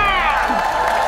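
A studio audience at a Korean TV talent show claps and cheers for a challenge involving panelists riding on a truck, a brief burst of crowd noise with excited shouts.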